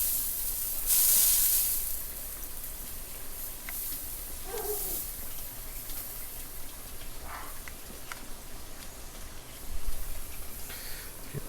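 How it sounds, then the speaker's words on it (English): A steady hiss of water spraying from fine nozzles of a plant propagation bed misting system runs throughout, with a few faint ticks and clicks in the background. "You kind of see the spray."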